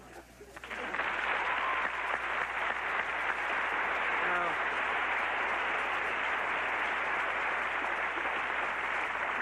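A studio audience at The Arsenio Hall Show bursts into loud, sustained applause that starts abruptly and keeps up steadily, a dense wash of many hands clapping close by.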